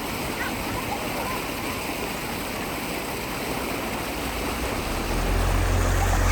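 Rapid water rushing over stones at a natural beach swimming area beside the Atlantic Ocean at Conception Bay, a steady broadband roar that swells louder near the end, with no pause.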